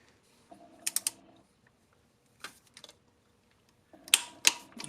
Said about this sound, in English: I'm using the 1/4 inch torque wrench.